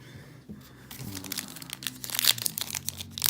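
A wrapped pack of 2019 Topps Gypsy Queen baseball cards being torn open, crisp crinkling and tearing of the foil wrapper that builds to louder rustles, close up.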